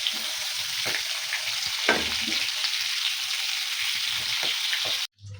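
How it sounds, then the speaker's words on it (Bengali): Prawns fry in hot mustard oil in a kadai, giving a steady loud sizzle for about five seconds with occasional stirring clatter, then cutting out abruptly near the end. "মাছ ভেজে নেব"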